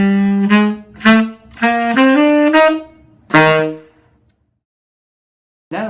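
Tenor saxophone plays a short swung jazz etude phrase from an Alabama All-State middle school piece: several accented, separated notes up close, then a pause before another note starts at the end.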